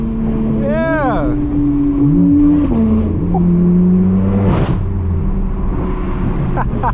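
A straight-piped BMW M4 F82 roars loud and close on the way to a cars-and-coffee meet, its exhaust revving up and down in sweeping surges, with people cheering and talking over it.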